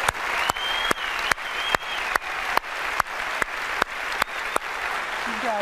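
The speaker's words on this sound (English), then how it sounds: "Let's give them a round of applause." Audience applause for a team at a keynote event, sustained hearty clapping with a crowd cheer and whistle, punctuated by loud rhythmic sharp claps close to the microphone about every half second.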